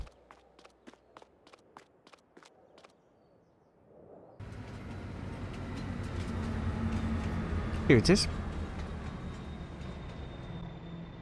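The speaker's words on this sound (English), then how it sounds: "And we will wait for the train." Train arriving at a farm station in Farming Simulator 22: a low rumbling rolling drone swells in after a few tapping footstep-like clicks, with a brief squeal midway, while someone speaks briefly.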